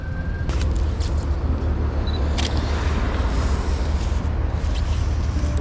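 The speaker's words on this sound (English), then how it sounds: "traffic's backing up" Steady road traffic rumbles close by at a motorcycle crash scene in Montgomery Township, with a car stopped in the intersection and medics present; a continuous low engine drone holds throughout with a few brief higher-pitched tones.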